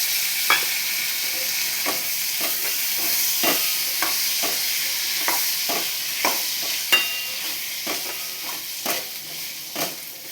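Rajma being fried in hot oil in a pan, a steady sizzle with a run of sharp crackles and occasional stirring clinks heard close up, with no talking.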